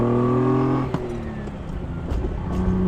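A Ferrari Dino 246 with a 2.4 liter V6, smog equipment removed, revs loudly up close, with a quick blip between first and second gear before the engine note settles and rises again.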